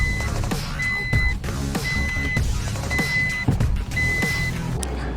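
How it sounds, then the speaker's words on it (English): A Toyota Urban Cruiser is driven through city streets, with a steady engine and road hum inside the cabin punctuated by regular electronic beeps roughly once a second, and no talking. "As you can see, easily I can drive, maneuver in all the city."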